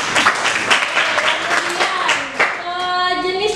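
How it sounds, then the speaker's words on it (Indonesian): A classroom applauds a student at an Indonesian vocational school, a short burst of clapping from a small group, close and fairly loud, before a voice and tonal sounds take over at the end. "Beri tepuk tangan buat Ulan."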